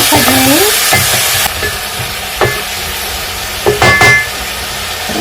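Tomatoes and salt being stirred in a pilau pot: sizzling with several scraping spoon strokes against the metal, close and fairly loud, no talking.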